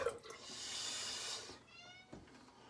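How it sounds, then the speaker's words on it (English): A pet cat behind a closed bathroom door gives a faint, muffled meow, heard alone over a hissing wash of running water from the sink. "You'll be able to hear my cat outside the door."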